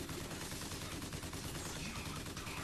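Dense, rapid gunfire fills a fight in the video game BioShock Infinite, a continuous loud barrage of shots with no pauses and no talking.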